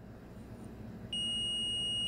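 Fluke non-contact AC voltage tester pen sounding a steady high electronic tone that starts abruptly halfway through and holds to the end, close and clear over a faint background hum.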